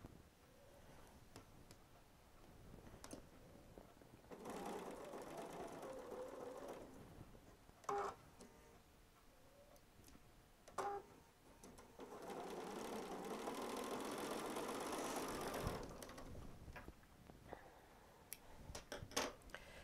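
A sewing machine runs in two sustained bursts with a steady whirring stitch, separated by small clicks and handling sounds, with no talking.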